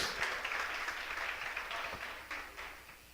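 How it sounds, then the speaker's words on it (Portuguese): Church congregation applauding together, a steady broad wash of many hands clapping that swells and fades slightly over a few seconds, without voices. "Você pode aplaudir o nome do Eterno?"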